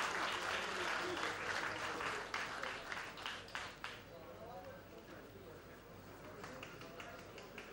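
A crowd applauds an opponent at the S-70 tournament with lively clapping that thins out and fades over about four seconds, while a commentator talks over it and carries on afterwards.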